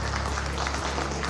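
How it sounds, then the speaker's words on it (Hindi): Businessmen in an audience clapping at a business event, a short burst of crowd applause with a low steady hum underneath, moderately loud and without clear speech. "एक बार अपने लिए जोरदार तालियां बजाएं"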